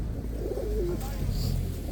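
A pigeon gives a short, soft, wavering coo at an outdoor pigeon market in Radom, Poland, heard against a constant low rumble of crowd and market noise with voices nearby.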